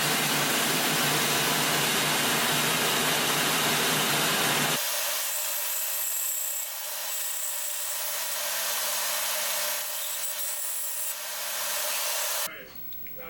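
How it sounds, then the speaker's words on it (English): A bandsaw runs loud and steady, cutting a small wooden wedge meant for fixing a loose hammer head's handle; a broadband roar fills the first part, then the motor's tone continues with the cut before stopping abruptly. "I'm going to try and just cut it down on my bandsaw a little bit"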